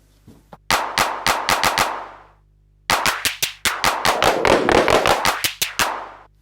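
Sampled handclaps from a KORG EMX-1 drum machine, played as bursts of quick sharp hits in loud rhythmic runs separated by a short pause, with a steady low hum underneath.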